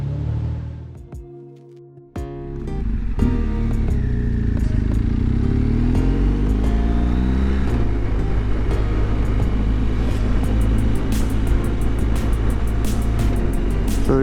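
A motorcycle rides toward Fontana Dam through fall foliage, starting with a brief idle and revving, then a steady loud engine drone and wind rush as it cruises close to the microphone, with no talking.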